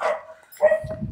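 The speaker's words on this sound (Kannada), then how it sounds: "ನಮ್ಮನೆ ನಾಯಿ ಬೊಗಳುತ್ತಿದೆ ನಮ್ಮನ್ನು ನೋಡಿ." A dog barks a few times nearby, short sharp yelps with a brief pause between bursts.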